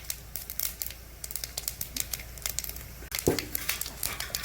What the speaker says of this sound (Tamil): நல்லா கடுகு பொரியுது பாருங்கள்.